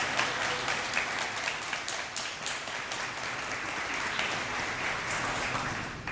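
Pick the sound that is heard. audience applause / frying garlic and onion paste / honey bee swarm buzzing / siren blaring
audience applause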